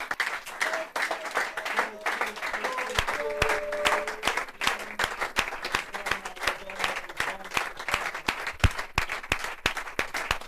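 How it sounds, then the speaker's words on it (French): A church congregation claps and applauds loudly and continuously, a dense wash of hand claps with voices and cheers mixed in throughout. "On acclame très fort pendant que la régie nous..."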